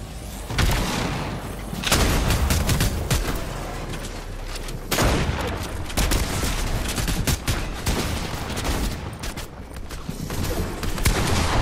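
Video game gunfire in rapid bursts of shots and heavy booming impacts, loud and close, coming in repeated waves with brief lulls between volleys and no talking.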